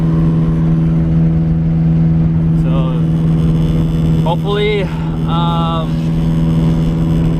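Car engine pulling steadily in fourth gear with the throttle held open, a constant low drone running throughout while someone talks over it.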